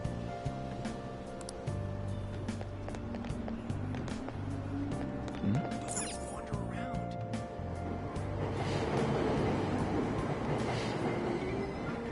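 A train departs a station in the video game Persona 5, a steady rumbling rail and carriage noise with a brief squeal midway, the rumble swelling louder toward the end, under faint announcements.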